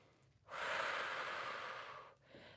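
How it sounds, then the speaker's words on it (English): Deep, steady breath during a Pilates floor workout, one long airy exhale of roughly a second and a half close to the mic with a softer breath starting after, no talking. "Breathing deeply in through the nose and out through the mouth"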